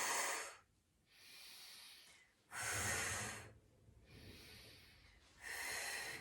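Heavy rhythmic breathing during a Pilates side plank: three loud, breathy exhales and quieter inhales alternate in a slow cycle, close and alone without talk.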